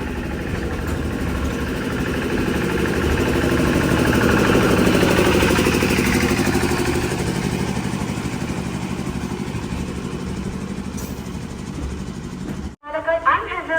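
A crowded train pulling out of Edappally station gives a steady, loud rumble that swells slightly and then cuts off abruptly near the end, followed by a few short knocks.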